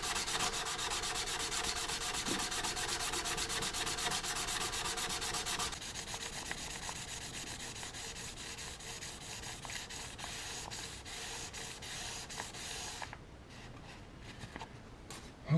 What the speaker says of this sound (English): that should give me a pretty good polish on these guards